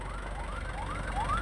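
A fire engine's wailing siren rises and falls repeatedly, loud and steady, with no voices over it, arriving at a warehouse fire.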